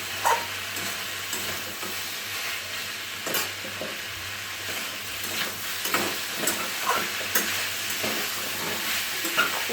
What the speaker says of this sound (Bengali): এবার আমরা ঢাকনা সরিয়ে ভালো করে এটাকে নেড়ে নেব।